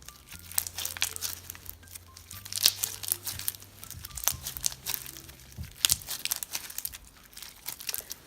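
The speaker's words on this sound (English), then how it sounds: "this is a good texture, it's got very satisfying crunch" Crunchy slime topped with sprinkles is squished and pressed, giving dense, irregular crackling and crinkling pops at close range, with no voices.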